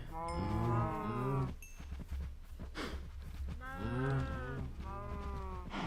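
Cattle mooing in the Minecraft video game, a few loud, close drawn-out moos separated by short pauses, heard alone without talk.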